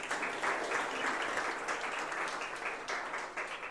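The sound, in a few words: audience applause at seminar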